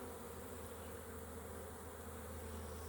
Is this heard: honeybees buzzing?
yes